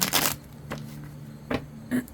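Tarot cards being shuffled by hand, a series of crisp riffling bursts with quieter gaps between, close and fairly loud, four or so separate shuffles.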